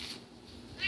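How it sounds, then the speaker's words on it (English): A cat gives a single short meow at the very end, brief and fairly faint in an otherwise quiet indoor room. "there's a cat."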